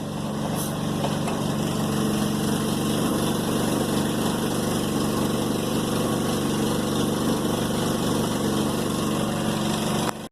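A gas-powered air compressor in an off-grid shop runs steadily while filling its tank, a loud, continuous engine chug and hum with no breaks and no talking.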